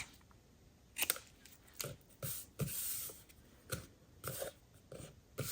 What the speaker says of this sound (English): I'm just going to use my scissors to trim the ends